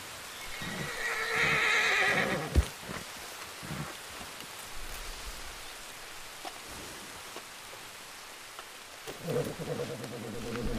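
A horse whinnies loudly in Red Dead Redemption 2, then hooves clop and thud among scattered game sounds, with a second short neigh near the end.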